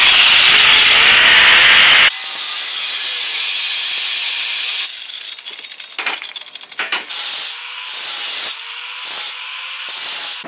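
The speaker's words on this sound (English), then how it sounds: "Got the grinder out here." Power grinder working wooden boards during a Sprinter van conversion, a loud steady grinding run for about two seconds, then quieter stretches of rubbing and scraping in short bursts with pauses.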